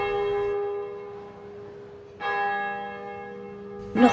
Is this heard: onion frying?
no